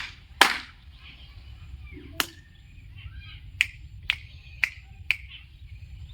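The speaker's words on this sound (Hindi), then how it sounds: "200 मैं 2 बार तालियां बजाई और 1 बार थपकी बजाई और 4 बार मैंने चुटकी बजाई" A teacher's sharp hand sounds during a counting activity: one loud clap, then a softer pat, followed by four crisp, evenly spaced finger snaps in a quiet room.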